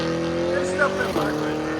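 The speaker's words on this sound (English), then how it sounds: "Came alive when we took the muffler off." A loud, raspy engine with no muffler drones steadily as a car rolls past close by, with a slight shift in pitch midway.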